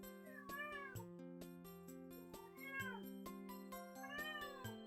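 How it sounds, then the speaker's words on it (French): A cat meows repeatedly, several drawn-out, rising-and-falling cries close by, set against a quiet background of steady tonal music. "Mon chat a décidé de parler pour cette vidéo."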